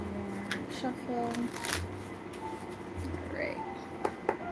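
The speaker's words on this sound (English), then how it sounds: "One more shuffle" Cards riffle and flutter in quick bursts of papery shuffling, a few soft taps and a faint voice in the background.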